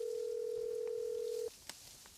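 A telephone tone sounds steadily during a phone call in an old Tamil film scene, holding for about a second and a half before cutting off, followed by faint clicks in near silence.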